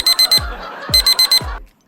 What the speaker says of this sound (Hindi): लेकिन जनाब ये अलार्म पीछे ही पड़ गया था।